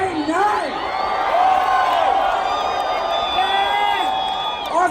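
A concert crowd at the Raid on Area 51 event in Las Vegas cheers, whoops and whistles loudly and continuously, with shrill rising and falling shouts over a dense roar.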